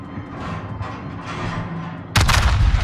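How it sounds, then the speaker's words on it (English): Naval guns firing in World of Warships: a single loud, heavy blast breaking in near the end after a low rumbling game ambience, with no talking. "Take blind shots at where the Des Moines was."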